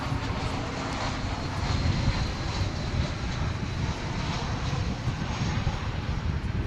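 A US Airways jet in American heritage livery rumbles at Dallas/Fort Worth airport, its engine noise a constant dense roar from start to finish with no break or clear voice.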